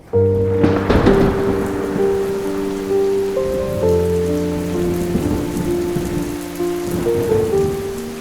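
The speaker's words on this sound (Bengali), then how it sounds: "চার দিন যাবৎ বৃষ্টি পড়ছে, এক মুহূর্তের জন্য থামছে না।" Heavy rain in a cartoon, a loud steady downpour with a thunder rumble near the start, laid under sustained musical tones throughout.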